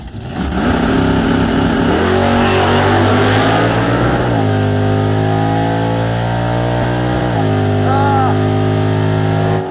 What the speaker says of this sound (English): I think he stepped on the limiter a little bit on the 1-2 shift